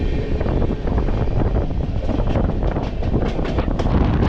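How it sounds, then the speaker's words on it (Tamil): A passenger train on the Arakkonam to Katpadi line passes at night, heard as a loud steady rumble with rapid clatter and wind buffeting from close range, with no talk. "அரக்கோணம் டு காட்பாடி போகிற ஒரு பேசஞ்சர் ட்ரெயின் உங்களுக்கு கரெக்டாக இங்கே கிராஸ் ஆகுதுங்க"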